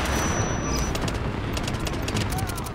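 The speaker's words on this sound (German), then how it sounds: "Achtung, wir sind unter Granatenfeuer." Grenade explosions and heavy gunfire in the shooter The Division, a dense continuous barrage of blasts and rattling shots, loud and close, with occasional voices faint underneath.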